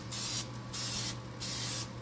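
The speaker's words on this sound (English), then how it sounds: "I'm just going to spray just lightly here" Cooking spray hisses lightly into a hot buttered pan in three short, even bursts separated by brief pauses, soft and close with no voices.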